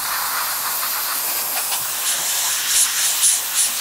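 An airbrush sprays paint onto a model StuG III Ausf B tank, giving a steady close hiss with a few louder sharp bursts toward the end.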